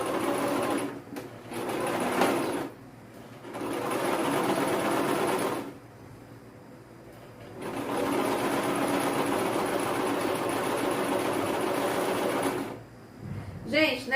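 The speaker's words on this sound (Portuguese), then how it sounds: "nessa parte aqui de costurar bracinho, eu vou sempre muito devagar" A sewing machine slowly stitching a curved doll's arm runs in several steady whirring bursts separated by short stops, close and loud, while a voice talks over it.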